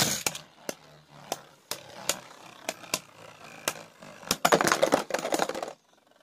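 A Zillion Zeutron Beyblade is launched and clatters in battle, giving a series of sharp, separate clicks and knocks that bunch into a dense rattle of collisions before stopping abruptly.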